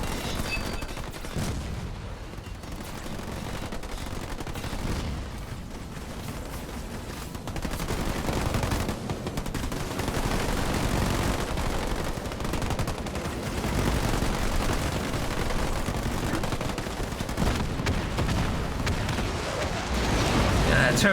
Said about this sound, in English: Turret's getting blasted pretty badly by the grenades